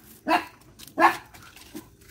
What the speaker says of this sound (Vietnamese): bé Hồng Ngọc biết sủa rồi cả nhà